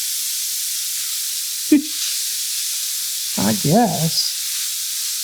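Chopped white onion sautéing in a pot as the start of braised country-style ribs, producing a steady, even hiss of sizzling, briefly interrupted by a sharp clunk and a few spoken words near the end.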